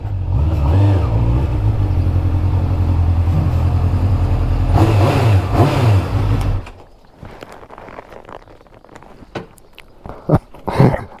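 A Yamaha RD400 two-stroke motorcycle engine runs loud and close, idling steadily before a short burst of revving, then cuts off, leaving a few scattered clicks and knocks.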